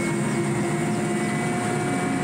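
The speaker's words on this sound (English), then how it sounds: "He landed the helicopter where we needed it, and not where it was convenient." A helicopter landing in a riverbed near water and forest gives a loud, steady engine and rotor drone with sustained tonal whine, close and continuous without a break.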